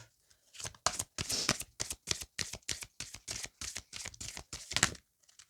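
A deck of cards is shuffled and cut by hand during a tarot-style reading, giving a rapid series of crisp riffling, flicking bursts close by that are fairly quiet and uneven in rhythm, with no talking.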